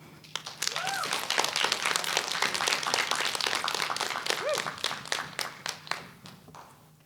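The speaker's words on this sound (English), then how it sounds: "I think we should do another round of applause." Audience applause at a rare disease advocacy event for young adults, a crowd clapping steadily for several seconds with a few whoops mixed in, easing off toward the end.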